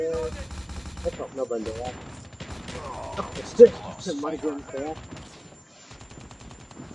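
Bursts of video game gunfire, including shotgun blasts, rattle through a shooter match, one sharp shot standing out midway while someone talks over most of it.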